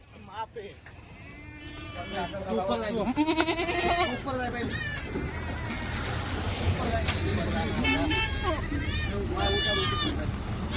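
Kathiawari goats bleat repeatedly at a herder's farm near Chalisgaon, their wavering cries overlapping one another. People talk throughout over a steady background murmur.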